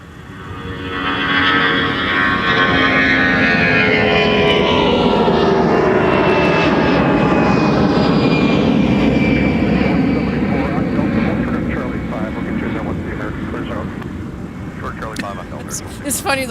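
A departing airliner at Minneapolis–St. Paul (MSP) airport roars loudly as it passes, the engine noise swelling within the first two seconds, holding strong, then slowly fading with a sweeping pitch shift as it climbs away.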